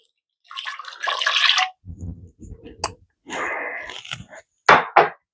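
Liquid is poured into a slow cooker for pulled chicken or pork in a few separate close, splashing bursts with brief pauses between, ending in two short sharp spills.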